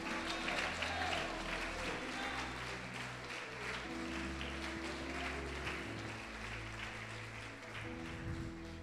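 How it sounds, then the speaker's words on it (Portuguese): A church congregation applauds with sustained, dense clapping at a moderate distance, while a preacher keeps speaking and faint music plays underneath. "Você pode aplaudi-lo e glorificá-lo?"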